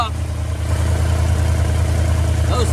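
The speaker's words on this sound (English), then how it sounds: "This thing's sitting here and idling. She's running a little rough." The engine of a 1966 Pontiac Grand Prix, first started after sitting for eight years, idles roughly with a steady, loud low rumble close by, and a voice briefly talks over it near the end.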